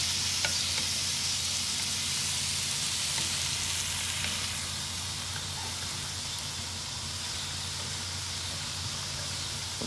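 Thin-sliced ribeye steak with peppers, onions and mushrooms frying on a Big Green Egg grill, a steady close sizzle and crackle with faint stirring scrapes, no talk, holding level for about ten seconds.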